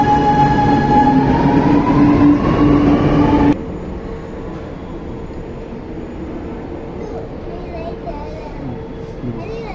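A loud train rumbles and clatters past nearby in Ashok Nagar, Chennai, with a whining tone, then cuts to quieter lingering rail noise.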